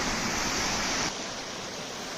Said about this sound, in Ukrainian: тече водоспад чоловічі сльози